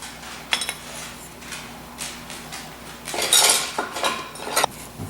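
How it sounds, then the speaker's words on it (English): A utensil mixes cherry cobbler topping in a bowl, giving close, repeated clinks and scrapes against the bowl that grow busier toward the end. "I'm just going to mix that up."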